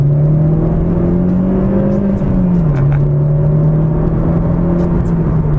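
A 2015 Opel Corsa OPC hot hatchback engine droning steadily and loudly close by under hard acceleration, its pitch dipping briefly as it shifts, then pulling on under a continuous rushing road noise.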